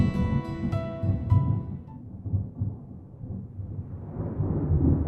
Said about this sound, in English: And that sound. Thunder snow is coming.